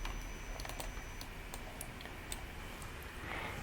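Computer keyboard keys click while working in CATIA sketching software, a quick series of faint, crisp taps and ticks in a quiet room, with nobody talking.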